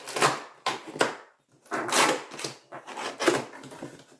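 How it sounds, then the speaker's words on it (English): Tape on a Brother ScanNCut SDX1000 cardboard box being sliced and pulled open, giving a string of close, sharp scratchy cuts and rustles in uneven bursts. "So I'll just cut the tape and we'll see what's in the box."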